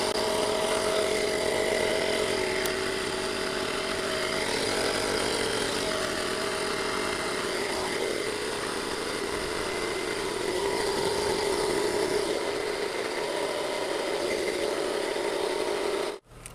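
A TUSA portable car tyre inflator runs with a steady, loud mechanical drone and buzzing hum, close and unbroken for about sixteen seconds before cutting off abruptly at the end.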